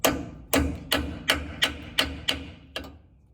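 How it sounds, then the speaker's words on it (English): Seven evenly spaced metallic hammer strikes ring out as a hammer drives a socket onto a bolt, each a sharp clang with a short decay, steady rhythm, close by. "you take that and drive it on with a hammer"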